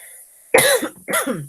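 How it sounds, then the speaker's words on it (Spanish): A person coughs twice in quick succession, close and fairly loud, with a quiet room hum in between and no talking. "discúlpenme la tos"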